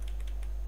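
Quick, light keystrokes on a computer keyboard, a short burst of several clicks close by over a constant low hum, with no voices.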